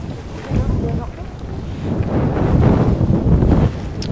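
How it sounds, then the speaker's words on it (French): Strong wind gusts outdoors at a pétanque final in La Talaudière, buffeting the microphone with a loud rumbling roar that swells and eases over a few seconds. "Vous entendez le vent, hein"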